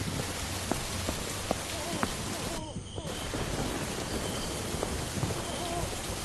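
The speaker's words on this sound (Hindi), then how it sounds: "कुछ समय बाद बारिश बहुत तेज हो गई। आसमान में जोर जोर से बिजली कड़कने लगी।" Heavy rain pours steadily with a dense hiss, broken by rumbles of thunder and a few sharp cracks.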